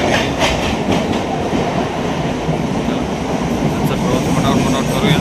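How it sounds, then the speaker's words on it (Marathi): Inside a Mumbai suburban local train pulling out of Ghatkopar, a loud steady rumble and rattle of wheels on track fills the carriage, with faint clicking over rail joints throughout. "चला घाटकोपरवरून ट्रेन निघाली."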